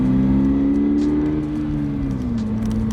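A Subaru BRZ engine revs loudly and close, its pitch rising slightly and then easing back down.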